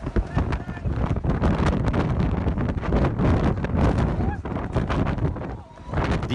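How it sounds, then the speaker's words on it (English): Strong gusty wind buffets the microphone throughout a Cape Town cycle race, a loud continuous roar with surging gusts that briefly eases near the end. "Cape Town's notorious winds had the final say, forcing organisers to cancel the race"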